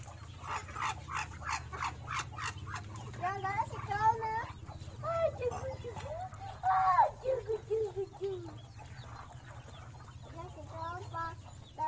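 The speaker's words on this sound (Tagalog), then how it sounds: "Oh, dami ng manok." Many chickens clucking and a rooster crowing at a rural site in the Philippines, busy overlapping calls close by, with a low steady hum beneath and people talking in the background.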